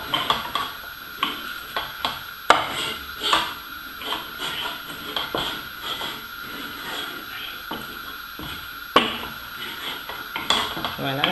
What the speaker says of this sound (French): continuer à remuer son foufou